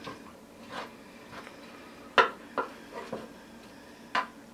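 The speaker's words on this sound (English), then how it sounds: "I'm just stirring this in like this" A spoon stirs cornstarch into Thanksgiving macaroni and cheese in a dish, with a few sparse, soft clinks and scrapes against the dish over a quiet background.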